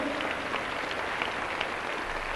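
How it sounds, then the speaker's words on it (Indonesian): Congregation applause during a church sermon, a steady, even patter of many hands clapping that sounds somewhat distant and rain-like, holding at a constant moderate level with no voices over it. "Tepuk tangan."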